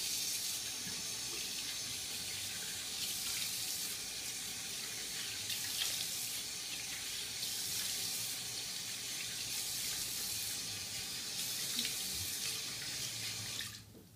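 Tap water runs steadily into a sink while a face is rinsed after washing with soap. The flow is quiet and continuous, with faint splashing, and stops abruptly at the end.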